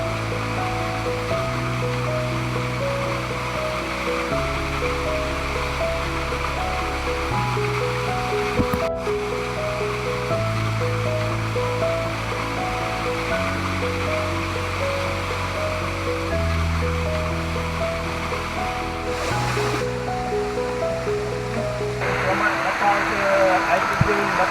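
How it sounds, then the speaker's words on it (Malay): The Batu Asah waterfall in a cool forest about 180 metres above sea level roars as a steady, loud, broadband rush, with a faint musical tone running underneath throughout. "Air terjun Batu Asah."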